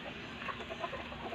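A chicken clucks in a few short, close calls over a steady outdoor background, with no voices present.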